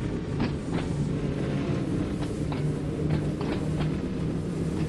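A train in Train Sim World 2 running near Ryde on the Isle of Wight line, a continuous low rumble with periodic rail clicks and clacks spaced through a steady run.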